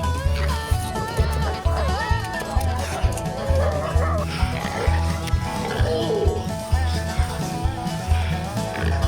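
Hunting dogs before a feral pig hunt in the mountains of New South Wales bark and whimper loudly, with regular thumping beats and tonal music or noise layered throughout.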